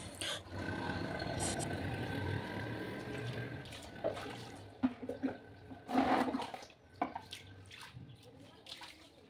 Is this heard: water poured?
yes